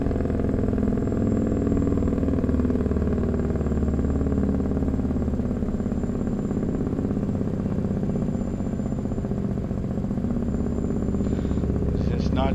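A Kenworth W900 truck engine rumbles outside, a steady, loud, low diesel drone that holds evenly throughout with a faint high whine above it.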